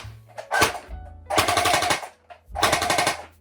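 An airsoft AUG rifle fires three short full-auto bursts, close and crisp, separated by brief pauses with a low motor whir between.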